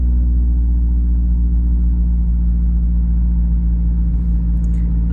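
A Mazdaspeed car engine, running lean after a cold start, idles steadily with a low, continuous rumble and a faint mechanical hum, unchanging throughout.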